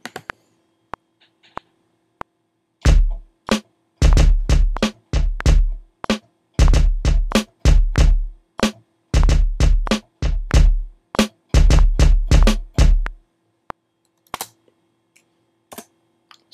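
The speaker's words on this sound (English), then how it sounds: "Hit record and start playing my keyboard." A MIDI keyboard played while recording in Logic: sharp, percussive notes in short bursts and clusters, loud and close, separated by brief silences, with no voices.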